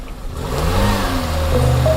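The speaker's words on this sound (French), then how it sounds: "Les voitures qui démarrent là." A car engine revs and rises in pitch as the car pulls away, a steady mid-range roar building over two seconds with no talk.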